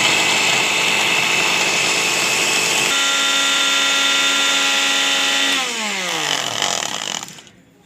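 Kitchen grinder machine blending bread with salt and red chili into spicy crumbs: a loud, steady motor whine runs for several seconds, then the pitch drops as the blades wind down and stop.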